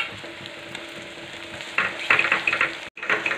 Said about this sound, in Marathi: अर्धा मिनिट दोन्ही पण वाटणं परतून घ्यायची